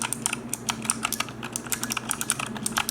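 Light presses on a Razer Huntsman Mini keyboard make a quick, even run of softer clicky keystrokes, close by and moderately loud, without speech.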